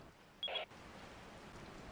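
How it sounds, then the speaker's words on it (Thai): Rain falls outside in the video game Resident Evil 4, a faint, steady hiss that runs throughout, with a short, brighter tonal blip near the start. "ดูเหมือนว่าข้างนอกจะฝนตกด้วยนะนี่ใช่ไหม เออ มันฝนตกว่ะ"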